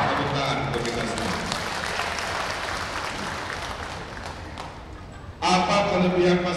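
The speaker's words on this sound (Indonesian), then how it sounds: "Tepuk tangan untuk kita semua." Applause from a crowd at a Jakarta campaign rally for the Ridho ticket, a dense steady wash of clapping mixed with voices, dipping slightly before a louder burst near the end.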